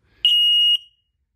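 A buzzer on a Gismo G mini GSM communicator gives one short, high, steady electronic beep of about half a second, sharp and alone against silence.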